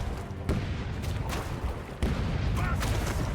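Ship cannons fire in the pirate game Rogue Waters, with a few heavy booming volleys, the strongest near the start and later, over a constant rough roar of battle noise.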